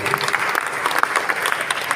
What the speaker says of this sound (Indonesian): Tepuk tangan buat Pak Teddy.